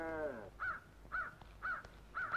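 Crow giving four separate caws at a steady pace, each short and harsh, following a brief voiced tone at the start; fairly faint against a quiet background.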